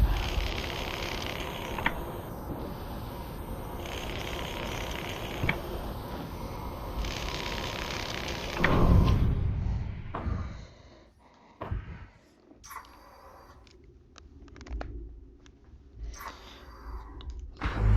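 A cutter in Lone Echo 2 bites into an access hatch with a steady harsh hiss and crackle for several seconds, then surges briefly before dropping to scattered clicks and quieter mechanical noises.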